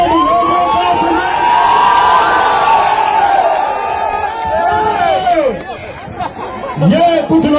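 A large crowd at a police honour ceremony cheering and shouting loudly, with rising whoops and voices swelling together in a dense, close roar that dips briefly and then surges again.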